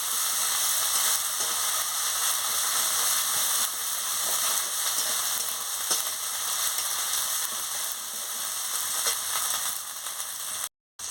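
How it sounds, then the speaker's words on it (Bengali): Ginger and garlic paste fries with spices in hot oil for potato curry (aloo dum), giving a steady, loud, dense sizzle that holds with little change throughout and cuts off briefly at the end. "আদা বাটা রসুন বাটাটা দিয়ে দিচ্ছি, দিয়ে ভালো করে মশলাটাকে কষিয়ে নিচ্ছি"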